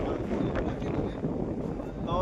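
Strong wind blowing by the sea at a forest campsite, roaring steadily as broadband buffeting on the microphone throughout, close and loud, with no clear voice over it.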